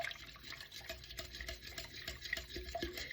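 Sourdough pecan raisin bread ingredients being mixed by hand in a bowl, with steady close scraping and stirring and soft wet dough sounds, no voices.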